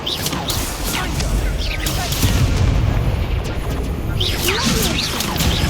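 Confringo explosive spell cast repeatedly in Hogwarts Legacy battle, a dense run of booming, crackling blasts with whooshes over steady game noise, a voice talking at times.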